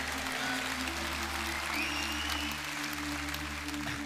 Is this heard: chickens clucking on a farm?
no